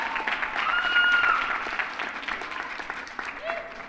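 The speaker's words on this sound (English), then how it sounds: "just a round of applause for that." A graduation ceremony crowd applauds, clapping that swells and then fades while a speaker's amplified voice carries on over it.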